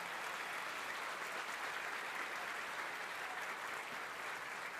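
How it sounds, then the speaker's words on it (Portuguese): Congregation at a Father's Day service in Brazil applauds the fathers standing up, a continuous wash of clapping heard from a distance at low level, unbroken throughout. "Uma salva de palmas para esses pais."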